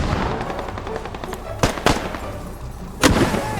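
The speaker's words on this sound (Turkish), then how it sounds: "Dışarı bir bomba atıyor." A bomb explodes outside during a Squad video game match, heard as a couple of sharp booming bursts amid rapid in-game gunfire and clatter, loud and close.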